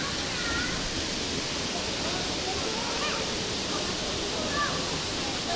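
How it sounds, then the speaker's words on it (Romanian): Waterfall in Tbilisi running high after heavy rain, a steady broadband rush of falling water filling the whole scene, constant and close, with faint chirps faintly audible above it. "Dacă locuiești acolo la balcon, auzi cascada în fiecare zi, în fiecare noapte."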